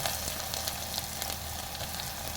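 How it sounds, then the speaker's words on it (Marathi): Onion, crushed garlic, cumin and curry leaves frying in hot oil, a dense, even, close sizzle with faint crackles throughout and no talking. "लसूण असं मी ठेचून घेतलं आहे आता टाकते कांदा"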